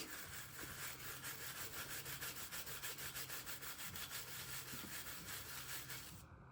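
Stained glass is polished by hand with a cloth in fast, even back-and-forth rubbing strokes, a steady close scrubbing rhythm that cuts off abruptly at the end.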